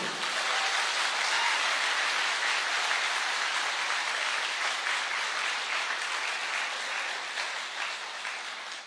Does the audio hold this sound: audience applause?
yes